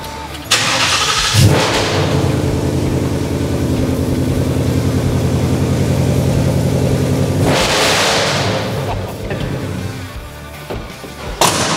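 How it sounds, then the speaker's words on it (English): A 1973 Ford F-100 Ranger XLT pickup truck engine cranks and fires up, then settles into a loud, rumbling idle with a deep exhaust burble before shutting off near the end. "Let them hear the exhaust note"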